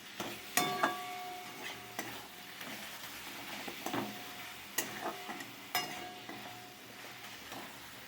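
Boiled egg and potatoes seasoned with salt and a little sugar are stirred in a pot, giving soft scraping and occasional sharp clinks of a utensil against the metal, fairly quiet and spread irregularly.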